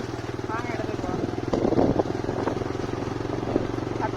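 A motorcycle rides along a rough, bumpy path toward a fishing pond, its engine droning steadily with a few jolts, while voices talk over it.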